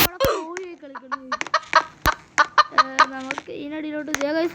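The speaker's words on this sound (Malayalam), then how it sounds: "കോഴി കളിക്കുന്നു." A chicken in a Roblox castle escape game clucks in quick, choppy bursts, loud and close. The calls repeat with short gaps and no talk over them.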